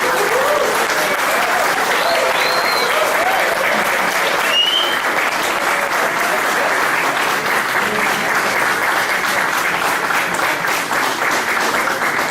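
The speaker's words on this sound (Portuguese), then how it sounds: "Vamos recebê-la com uma calorosa salva de palmas." Loud, sustained audience applause welcoming a philosophy lecturer at an evening talk, a dense and steady wash of many hands clapping for over twelve seconds without a break.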